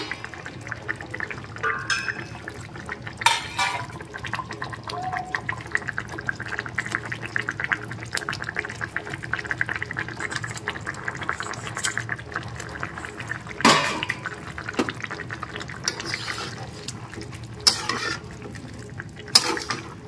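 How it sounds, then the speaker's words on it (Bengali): Rohu fish stirred into a simmering winter vegetable curry with bori in a pot, giving steady wet scraping and clinking of a spoon against the pot over a soft bubbling bed, with a few sharper knocks. "এবার এর মধ্যে মাছটাও মিশিয়ে নিচ্ছি।"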